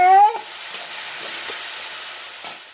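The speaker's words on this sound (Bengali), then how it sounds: "চলুন এইগুলোকে একটু ভাজা ভাজা করি তেলের মধ্যে" Vegetables frying in hot oil in a pan for chow mein, giving a steady close sizzle with a few soft stirring clicks, after a brief tonal sound at the start.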